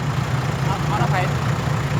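A tractor engine idles steadily at close range with a low, even rumble, while a voice speaks over it.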